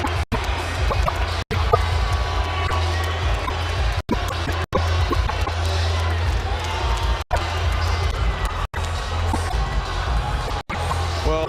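Large boxing arena crowd roaring in sustained support of Lamont Peterson before his fight with Amir Khan, a dense continuous wash of cheering with no break.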